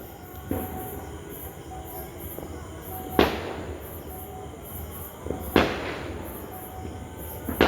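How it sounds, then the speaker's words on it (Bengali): Firecrackers burst outdoors during Diwali celebrations. Two loud, sharp bangs stand out over a constant background rumble, with a fainter pop before them. "সবাই বাজি ফাটাচ্ছ সাবধানে ফাটাও, দেখে শুনে ফাটাও"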